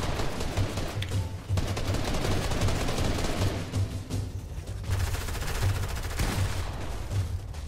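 Repeated gunfire in the Fortnite battle royale game, with clusters of sharp shots and brief gaps across several seconds over a steady layer of game noise.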